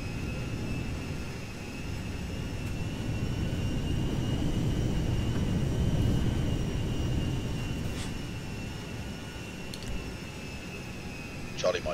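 Airplane engine in GTA 5 taxiing toward the runway, a steady broad low roar with a faint high whine holding throughout, loud and continuous, with radio-style talk over it.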